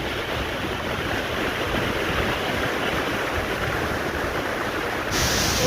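Spray from Vasudhara Falls, a Himalayan waterfall, rushes onto a camera held close to it, producing a constant loud hiss of falling water with no voices.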